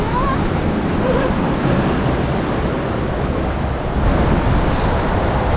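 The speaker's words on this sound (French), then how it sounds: "Il y a des vraies vagues, hein." Waves of water splash and surge around a water ride at the Efteling theme park, a steady loud wash of surf-like noise with wind buffeting the microphone throughout.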